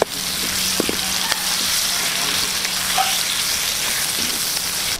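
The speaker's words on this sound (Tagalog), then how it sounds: "Okay, gisa po natin ulit itong ating karne" Meat sizzles and fries steadily in a pan with onions and tomato paste during sautéing, a constant close hiss with a few faint stirring clinks and scrapes.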